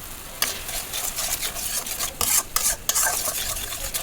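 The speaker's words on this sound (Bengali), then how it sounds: "এক চুলায় আলু পটল ভাজি করতেছি" Potato and pointed gourd frying in a pan on a home stove, a close, steady sizzle broken by the repeated scrape and clatter of a spatula stirring the vegetables.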